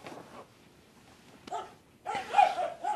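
Dogs bark in short bursts, one brief yelp followed by a louder flurry of barking, heard alone without talk.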